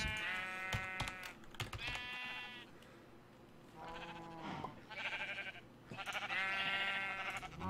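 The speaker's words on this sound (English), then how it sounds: "let's get some white sheep in here." Sheep in the video game Minecraft bleat repeatedly, giving several short wavering baas at irregular intervals. Clicking that sounds like keyboard typing runs between the calls, and no one talks.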